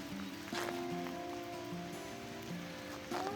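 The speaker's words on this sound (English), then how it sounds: "The rain slowed down a little bit." Rain falls steadily during a flood at a riverside campground, a soft continuous patter on surfaces mixed with a humming background tone.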